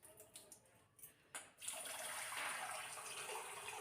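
Rice for biri chakuli pitha is washed under running water: a few soft splashes and clinks at first, then a steady, faint stream of water pouring and swirling in a pot.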